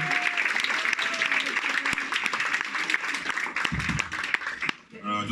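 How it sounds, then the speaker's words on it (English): Sustained applause from a crowd, dense clapping filling the room for several seconds before tapering off near the end, with some voices mixed in. "another round of applause,"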